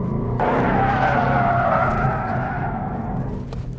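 A 2018 Ford Mustang RTR drifting, tires skidding and squealing loudly in one long continuous slide over a steady engine roar that tapers off near the end.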